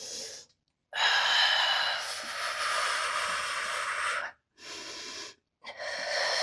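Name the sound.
heavy breathing during workout exercise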